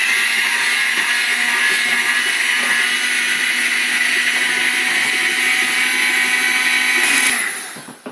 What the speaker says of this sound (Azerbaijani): İçərisinə tökürəm və mikserlə qarışdırıram.